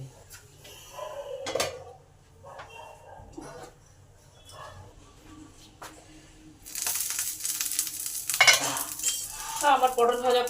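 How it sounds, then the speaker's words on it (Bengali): Stuffed pointed gourd (potol) pieces with egg frying in a pan, turned over with a spatula: scattered metallic clinks and scrapes, then a louder burst of sizzling toward the end, close by. "এপিট ওপিট করে উল্টে উল্টে এগুলোকে ভালো করে ভেজে নিতে হবে"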